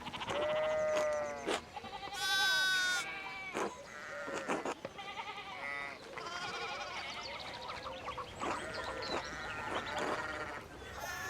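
A flock of sheep bleats repeatedly in a video game by Obsidian Entertainment. The cries are close and overlapping, some short and some drawn out, with several animals calling at once.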